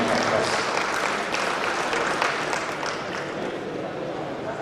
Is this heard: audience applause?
yes